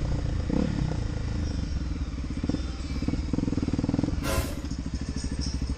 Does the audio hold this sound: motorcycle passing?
yes